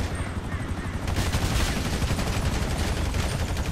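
Dense, rapid gunfire crackling continuously, loud and close, like automatic weapons firing in a GTA 5 Online battle with no pauses.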